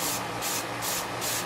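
Aerosol spray paint applied in very light dusting coats to a model, four short hissing bursts in steady rhythm, close and fairly loud with no voices.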